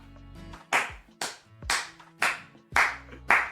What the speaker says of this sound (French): Ah non, j'applaudis, alors j'ai peur, j'applaudis.